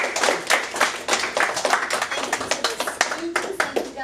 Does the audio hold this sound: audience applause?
yes